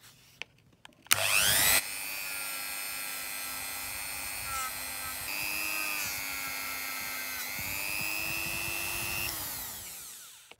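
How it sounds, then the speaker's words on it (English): A multi-tool spinning a small felt polishing wheel against a Matchbox No. 29 Racing Mini diecast car, a steady high motor whine after a brief startup rush, its pitch shifting slightly as pressure changes, close and alone. "So I'll have to just use a little felt wheel"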